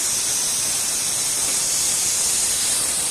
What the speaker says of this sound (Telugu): పప్పు అయితే ఉడికింది. ఆవిరైతే నేను ఇలా చెంచుతో అయితే ఇలా తీస్తాను.